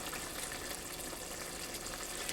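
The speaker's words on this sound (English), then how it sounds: "And it's all bubbling really nicely." Home-canned chili simmering in a pot on the stove, a steady, faint wash of bubbling and simmering liquid that runs the whole time with no talk.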